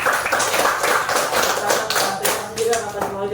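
A group of pupils in a rural riverside classroom clap together, with sharp, uneven hand strikes rising and falling over about three seconds while voices murmur underneath.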